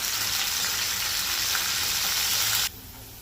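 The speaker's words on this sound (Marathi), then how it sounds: "एक वाटी वाटाणा घेतला तो मी फ्राय करून घेते थोडा" Green peas fry in a pan, giving a loud, continuous sizzle that cuts off abruptly just before the end.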